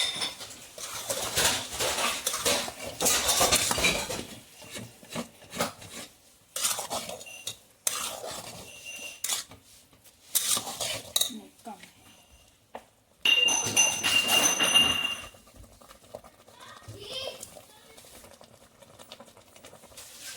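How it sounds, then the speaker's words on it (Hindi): A spoon scrapes and stirs through soya methi matar khichdi in a metal pot, in repeated bursts of gritty scraping with brief pauses between, close and clear. "चटनी मिक्स कर रहे हैं।"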